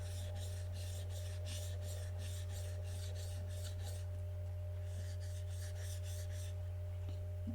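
A chisel blade is worked flat on its back against a sharpening stone, a steady rhythmic rasping as it is pushed back and forth in repeated strokes, pausing briefly midway, over a constant low electrical hum.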